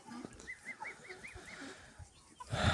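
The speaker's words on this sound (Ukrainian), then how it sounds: "Тут гусенята, гусенята гризуться." Small goslings peep in a quick series of soft chirps, then a sudden rustling burst near the end.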